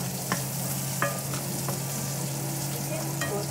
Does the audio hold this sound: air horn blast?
no